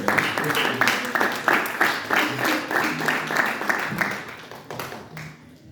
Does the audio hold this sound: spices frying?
no